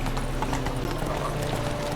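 Roach, the horse in The Witcher 3: Wild Hunt, gallops in a steady, fast clip-clop of hooves that stays close and loud from start to finish, with a faint hint of whinny and no clear talk.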